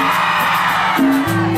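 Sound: concert crowd yelling and cheering

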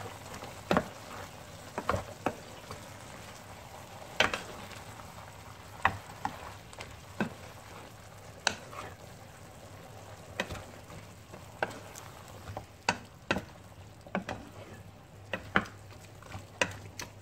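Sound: Turkish style veggies and beef stirred while frying in pan

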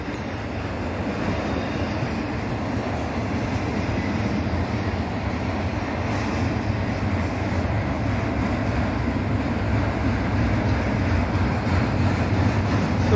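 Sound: Norfolk Southern container and piggyback freight train passing

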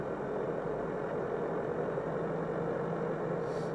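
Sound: tank engine in video game World of Tanks

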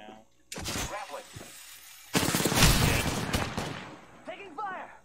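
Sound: gunfire in the video game Apex Legends

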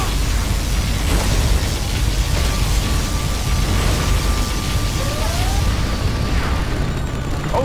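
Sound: particle cannon blast in the video game Command & Conquer Generals

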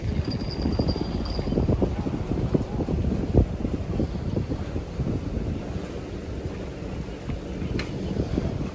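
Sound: wind

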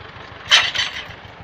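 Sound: T-25 tractor engine running

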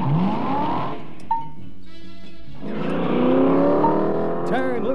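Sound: 1965 Dodge Dart GT engine revving, four-barrel carburetor

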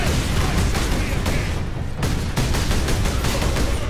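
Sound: incoming gunfire in Warhammer 40,000 Space Marine video game

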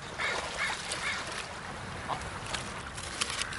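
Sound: ducks quacking

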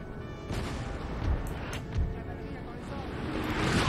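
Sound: cannon artillery fire in video game Napoleon Total War

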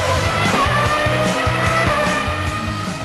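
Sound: Formula 1 race cars roaring on racing track

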